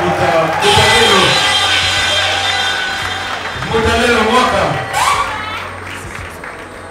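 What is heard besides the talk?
audience applauding and cheering in a hall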